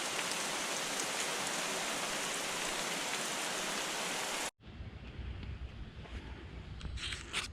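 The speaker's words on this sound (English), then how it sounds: "the rain is falling quite heavily" Heavy rain pours down steadily in a dense roaring wash, loud and close, then briefly cuts out before resuming as a slightly thinner downpour.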